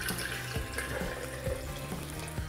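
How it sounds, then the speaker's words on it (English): Warm water runs steadily into a container while making a Hawaiian sardine pupu marinade in a home kitchen, a continuous splashing pour that stays close and even throughout with no talking. "So I'm just gonna start with some warm water."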